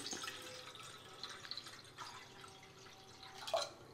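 Water poured into tamarind extract for pani puri, a faint, close trickle with soft drips and splashes in short bursts, ending in a slightly louder splash.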